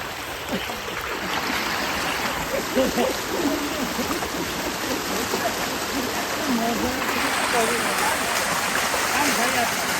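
During monsoon floods, floodwater rushes over a road in a continuous, dense roar that fills the whole scene. Faint voices can be heard in the background.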